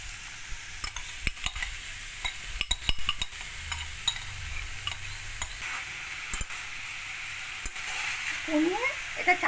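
Banana stem and fried rice are stirred in a pan over a soft sizzle, with frequent sharp clinks and scrapes of the spoon against the metal, close up and without talk.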